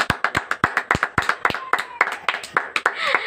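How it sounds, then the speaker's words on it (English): A classroom group applauds Group 3 after their creative advertisement performance in a communicative English lesson: a fairly loud burst of many uneven, overlapping hand claps, sharp and close, building into a denser patter toward the end. "Let us give them a resounding applause"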